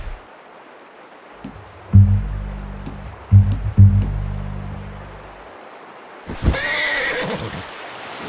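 A horse whinnies twice in the video game Red Dead Redemption 2, loud and close, with a few hoof thuds between the calls and a rustling noise near the end.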